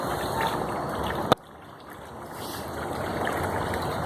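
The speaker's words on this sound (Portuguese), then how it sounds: "Milhares de litros d'água aí, ó." Water gushes steadily from a leak in a forest, thousands of litres running to waste; a broad, continuous rushing flow, broken by one sharp knock before the water noise returns.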